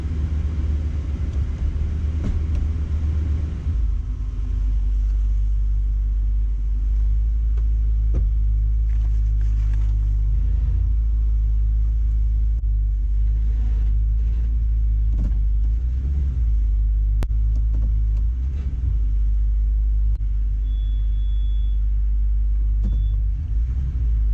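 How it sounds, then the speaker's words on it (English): A salvage Toyota Tundra on its first test drive gives a steady, heavy low rumble from inside the cab, with the engine and road noise droning continuously and swelling slightly at times. "I would call this the official first test drive."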